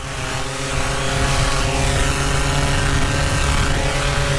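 A powerful engine roars loudly and steadily at high revs near full throttle, a dense, sustained drone close to the listener with no voices over it.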